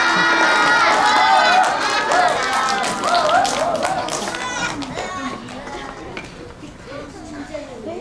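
At a third-grade school fair in Korea, an audience of children claps and cheers to welcome a student speaker, with excited young voices shouting over the clapping before it gradually dies down.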